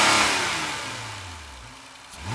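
A 2011-model car's engine revs hard, then the pitch falls away as it decelerates and fades into the distance, with a brief rise again at the end; no one speaks.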